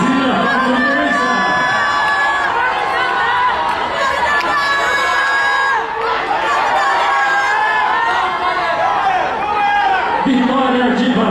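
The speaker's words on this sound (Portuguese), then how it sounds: "Últimos metros de prova, é a torcida da Fluminense." Fluminense supporters cheer and shout loudly and continuously through the final metres of a women's under-18 400 m hurdles final at a Brazilian championship, with a commentator speaking over the crowd.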